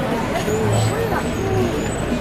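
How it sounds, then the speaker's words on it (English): Street traffic in Madagascar with city minivans used as public transportation, engines rumbling and a brake hiss amid a busy crowd, with people talking throughout. "These vans up here are public transportation, city minivans that are used for basic commuting."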